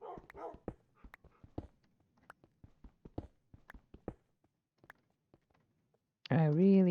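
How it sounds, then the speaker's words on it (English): Dog barks in a horror video game, scattered sharp yaps over several seconds alongside footsteps-like clicks, ending in a louder sustained whining or howling cry, with no speech over it. "I really don't want to hit the dog,"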